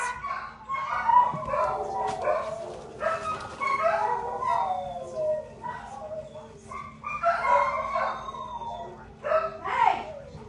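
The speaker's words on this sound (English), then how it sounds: "They decided to start barking at each other for no reason" Several dogs bark back and forth at one another indoors near an open front window, in repeated bursts of loud barks and yips over a low steady hum, with a person talking between them.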